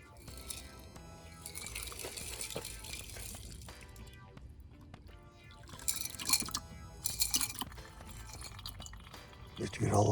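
Water splashes and trickles while a container is rinsed out during gold scrap recovery, with a few glassy clinks and drips under a person's steady talking.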